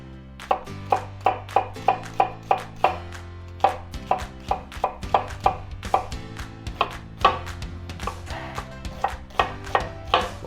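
A knife chops onions on a board in quick, even strokes, each sharp thud close and distinct, repeating in a steady rhythm over a musical background.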